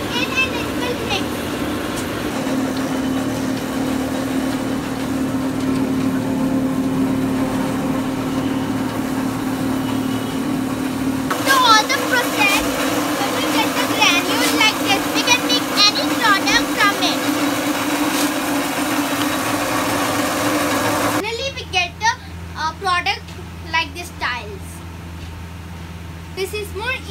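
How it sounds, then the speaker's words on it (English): A machine that mixes washed single-use plastic runs with a steady mechanical hum and drone throughout, while children's and adults' voices chatter over it. "This is the mixing machine."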